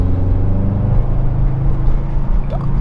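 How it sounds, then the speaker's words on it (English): Idling Subaru STI fitted with a Tomei exhaust gives a deep, steady, throbbing burble, loud and close, with a low rumble holding even throughout. "You can hear the idle."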